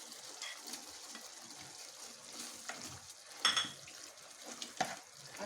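Mushrooms are stirred into simmering gravy in a kadhai, with faint gentle bubbling and soft scraping and clinking of the spoon against the pan at close range.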